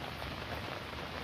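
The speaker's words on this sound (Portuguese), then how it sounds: "E tá chovendo, gente. Tá caindo água." Steady rain patters densely on a tent at a campsite, a continuous close hiss with no other sounds.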